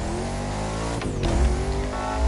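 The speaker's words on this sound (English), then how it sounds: "And I love the sound of this engine as well." A Noble hypercar engine in The Crew Motorfest drones loud and close, holding a steady, rich harmonic note with a brief shift partway through, then swelling near the end.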